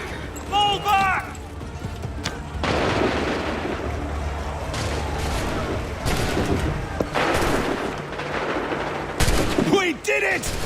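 Musket volleys crack out in a chaotic Revolutionary War battle in Assassin's Creed 3, bursts of gunfire mixed with hoofbeats and shouting soldiers, with voices calling out over the din.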